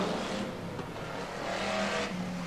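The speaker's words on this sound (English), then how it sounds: "96 then really puts the pedal to the floor down that back straightaway" A BriSCA Formula 1 stock car at Skegness in 1994 accelerates hard down the back straight, its engine roaring steadily in a loud, continuous drone with rising and falling tones over the full span.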